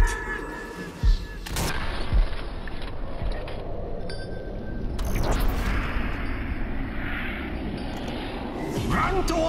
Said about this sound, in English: You'll have to shoot the nuke.